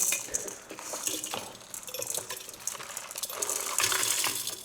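Eggshells, kitchen scraps and leftover charcoal tipped into a Lomi automatic indoor composter, giving a steady, fairly loud rattling clatter of small hard bits sliding and clinking against each other, continuous for several seconds with no talking.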